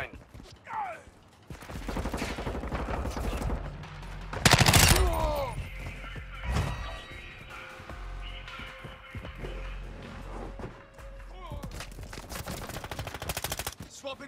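Gunfire in Modern Warfare 2: rapid automatic bursts and single shots, close and loud, amid explosions and battle clutter, with brief radio-style voice callouts mixed in.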